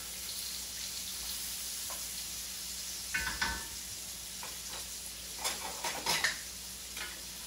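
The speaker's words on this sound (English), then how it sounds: "And now that the butter is in there browning, it's going to all" Zucchini and butter browning in a pan give off a soft, steady sizzle with faint stirring scrapes and occasional louder clatters of a utensil, close but quiet.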